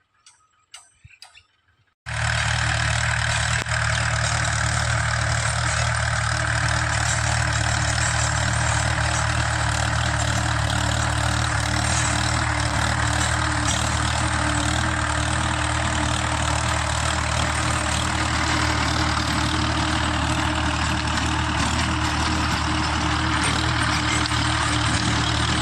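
Tractor driving a rotavator in a garden, starting abruptly after brief quiet and then running as a steady loud engine with fast ticking clatter, continuous and close for over twenty seconds.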